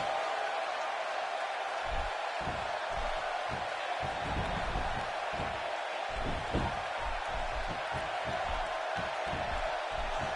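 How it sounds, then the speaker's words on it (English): A steady, loud crowd roar fills a wrestling arena in the WWE 2K16 video game during a Money in the Bank match, with scattered low thumps and impacts throughout. "by the sound of this crowd, I think they're getting what they wanted."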